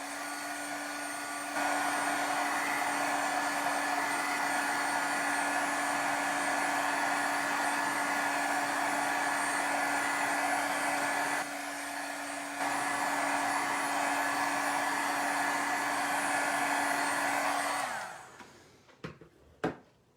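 A heat tool blows steadily while drying a slimline Christmas shaker card. It gives a loud, constant whirring hiss for about eighteen seconds, then cuts off, followed by a few light handling clicks.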